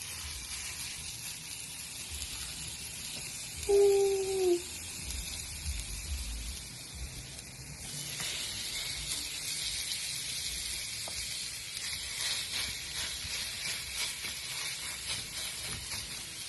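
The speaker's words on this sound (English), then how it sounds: "When I put this meat in this pan, I actually want to hear it sizzle." Meatloaf mix searing in a hot pan gives a continuous hissing sizzle that grows louder and brighter midway and stays steady, with a brief tonal sound near the start.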